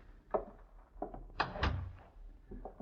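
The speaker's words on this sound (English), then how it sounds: "Close the door, please." In a radio drama, a door closes with a series of wooden thumps and creaks nearby, ending in a heavier thud and softer knocks after it, with no voices.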